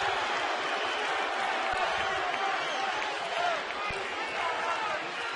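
A baseball stadium crowd at a Dodgers at Padres game swells into a steady, broad roar of cheering and applause that holds evenly throughout.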